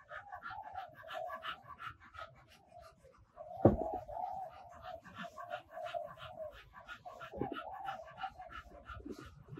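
A large dog pants heavily, a close, quick, rhythmic run of breathy puffs that continues throughout, with a faint thump partway through and no talking.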